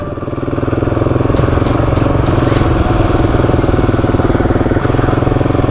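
An off-road motorcycle runs on a rough trail at steady throttle, its engine droning loud and close with a constant pulsing note, and brief clatter from the bike bouncing over terrain.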